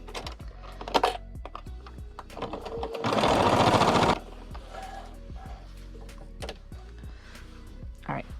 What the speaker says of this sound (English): and we're just going to sew that on.